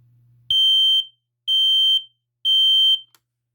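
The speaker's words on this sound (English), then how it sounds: "He is a Garrison 46-0014-0. The second alarm I ever got" A Garrison 46-0014-0 smoke alarm sounds during a test, giving three loud, shrill beeps of about half a second each in an even rhythm, with a faint low hum just before the first beep.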